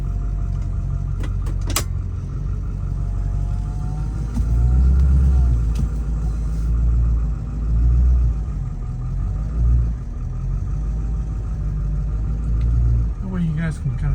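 A 2003 Ford F250 pickup with the 7.3 diesel rolls along, its engine giving a steady, close low rumble from inside the cab, with a few faint clicks and a brief louder swell near the end.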